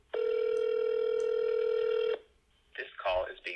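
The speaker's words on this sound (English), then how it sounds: "Down below, let's call this number." A phone call placed through the Rev call recorder service on an iPhone produces a steady, loud ringback tone lasting about two seconds, then a voice begins speaking.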